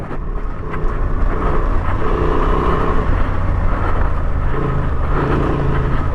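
A stock Honda Transalp 750 rumbles loudly and steadily in second gear along an off-road OHV trail, close engine drone with constant wind and trail noise throughout.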